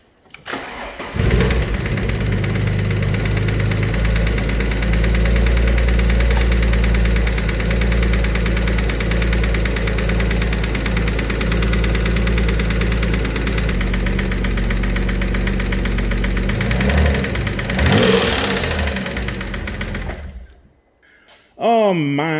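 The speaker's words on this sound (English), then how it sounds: "bottom end is knocking." A car engine starts and runs with a worn bottom end knocking, a loud steady mechanical clatter over the idle that holds for about twenty seconds before cutting off abruptly.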